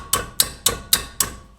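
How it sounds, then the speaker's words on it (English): A 3-pound hammer taps the wheel bearing on a 2009 Subaru Forester during a bearing replacement, giving five sharp, evenly spaced metallic strikes about a quarter second apart, close and clear with no talk. "A couple hits with the hammer."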